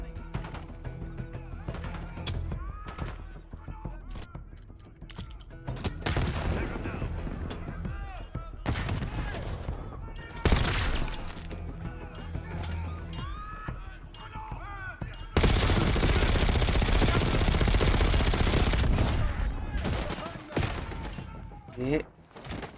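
Gunfire in the Black Ops 6 Iraq campaign mission: bursts of automatic fire and heavy volleys crowd together, with a sustained loud barrage near the end.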